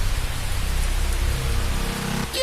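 A rain shower falls with a dense, steady wash of drops, loud and even throughout, ending abruptly in a short tonal sound.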